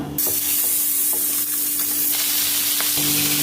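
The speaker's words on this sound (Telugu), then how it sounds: "ఇప్పుడు ఈ ముక్కల్ని మనం వేగించుకుందాం" Pieces of food fry in a pan with a continuous close sizzle and hiss, broken by a few light clicks and spatters over a faint steady hum; no one speaks.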